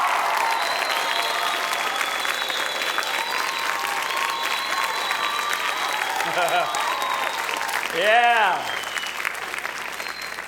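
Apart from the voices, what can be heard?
audience applause and clapping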